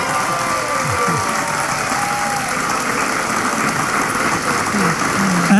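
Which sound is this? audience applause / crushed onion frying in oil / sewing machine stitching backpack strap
audience applause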